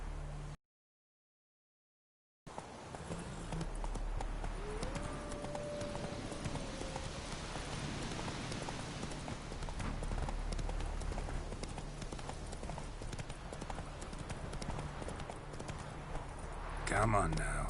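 Roach the horse's hoofbeats in The Witcher 3 video game, steady rhythmic clip-clop continuing through most of the stretch after a brief silent gap, with a faint tonal voice-like sweep and background game ambience.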